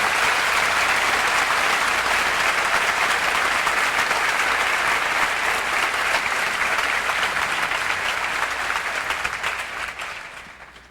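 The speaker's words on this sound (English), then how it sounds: "A round of applause for the newest members of the Academic Hall of Fame." A large audience at a 1996 high school commencement applauds new Academic Hall of Fame members, a dense, steady roar of clapping held for about ten seconds before tapering off at the end.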